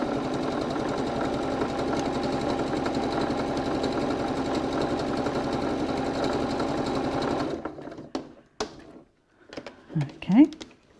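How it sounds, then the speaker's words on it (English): A sewing machine stitches around the top of a fabric cylindrical case in a steady, loud mechanical whirr for about seven seconds, then stops, leaving a few soft handling clicks and rustles. "So now you've stitched all the way around the top there."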